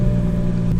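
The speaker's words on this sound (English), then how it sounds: "I'm gonna give y'all some little revs of the car so you can hear what it sounds like." A stock-exhaust BMW 340i with the B58 engine, steady close, loud low engine drone with strong harmonic hum, held at an even level through the short moment rather than sharp rev spikes.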